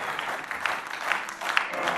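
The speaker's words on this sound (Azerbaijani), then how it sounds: "O zaman alqışlar gəlsin," Studio audience applause on an Azerbaijani TV music show, a dense steady wash of many hands clapping for about two seconds with no talking over it.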